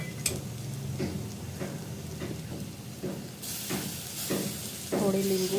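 Spices go into a hot pan of sizzling capsicum and garlic, a continuous close sizzle with rhythmic stirring scrapes that grows louder toward the end, ending in a brief tonal clatter.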